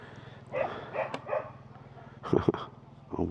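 Dogs bark and whimper at a distance around feeding time in a morning setting by a coffee stop, with faint background murmur under the short yips.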